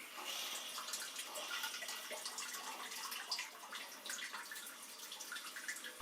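Eco Nova bidet seat front wash sending a steady, faint hiss of spraying water, continuous and even with no voices.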